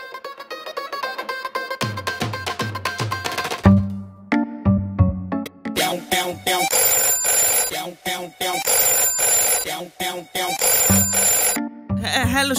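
A phone ringtone plays while an outgoing call is placed, its repeating melodic tone loud and steady throughout, with a music-like pattern of rising notes and short breaks between rings.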